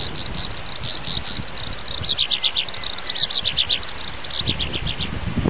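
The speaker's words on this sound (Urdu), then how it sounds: "یہ پرندہ اپنے علاقوں میں نر چنڈول کے چہچہانے کی وجہ سے مشہور ہے۔" A male chandol, or crested lark, singing in rapid, high, repeated chirping bursts that are most prominent midway through, set over a noisy background with fainter insect-like trills.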